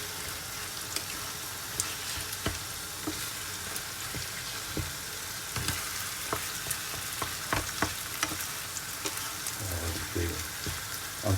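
Lasagne meat filling cooks with butter in a pan and sizzles steadily while it is stirred. Sharp clicks and scrapes from the spoon break through the frying hiss at irregular moments, and nobody speaks.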